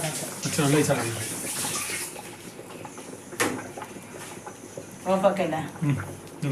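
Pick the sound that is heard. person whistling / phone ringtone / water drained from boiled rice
water drained from boiled rice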